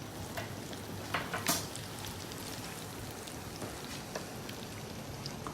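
Crumb-coated chicken for sriracha sliders fries in oil with a soft, steady crackling sizzle and scattered pops, fairly quiet and even throughout.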